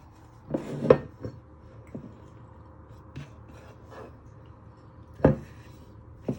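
Pulled pork scraped out of a bowl, with a few scattered scrapes and light knocks against the bowl, quiet and close, separated by soft pauses.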